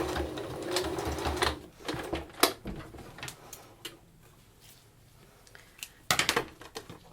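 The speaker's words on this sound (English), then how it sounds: "you can just top stitch oh, there's a thickness of fabric that's trying to get through there" A sewing machine top stitches through thick fabric on a simple baby apron, running in short uneven bursts of rapid mechanical ticking with pauses between, close and moderately loud, with no talking.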